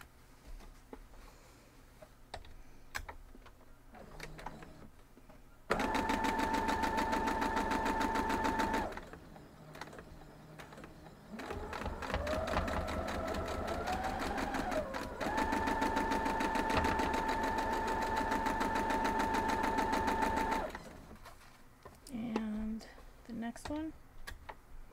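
Sewing machine stitching quilt block pieces in two long loud runs with a short pause between, framed by quiet talk and handling noises before and after.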